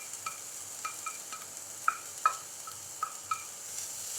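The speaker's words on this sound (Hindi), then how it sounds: "बंद गोभी को भी अच्छी तरह से भून लेंगे।" Finely chopped cabbage is stir-fried in a pan for chicken spring rolls, giving a soft, quiet sizzle broken by sharp clinks and taps of a utensil against the pan.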